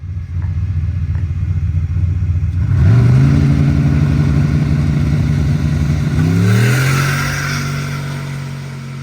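A street race car's engine revs loud and close, climbing steadily in pitch through the gears with a clear shift partway through before pulling hard again and fading slightly at the end.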